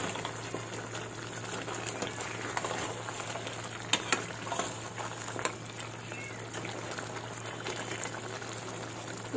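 Chicken bhuna curry cooked with home spices bubbles and simmers in a pan, a continuous close gurgling broken by a few sharper stirring knocks, with no speech.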